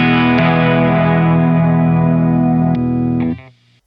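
Guitar run through a pedalboard effect switched in via a kill-switch effects loop, a sustained, distorted and modulated chord ringing loudly and steadily before cutting off sharply near the end, with no talking.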